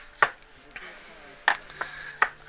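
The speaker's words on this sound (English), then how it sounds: "We got red onions to cut for it." A knife chopping red onions on a board, a few sharp, separate cuts at an uneven pace, close and fairly quiet with a hushed room behind.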